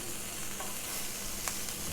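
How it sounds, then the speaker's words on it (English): A chicken frankie wrap fries in oil in a pan, giving a steady, close sizzle throughout, with a couple of brief sharper crackles. "So I'm going to just turn it over and make it crispy on the other side as well."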